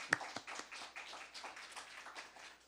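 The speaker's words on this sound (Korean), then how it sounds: "우리 박수로 한번 격려해 주길 바랍니다" Church congregation at a Sunday service clapping together, a steady patter of many hands running for a couple of seconds, moderately distant and fairly soft in a reverberant hall.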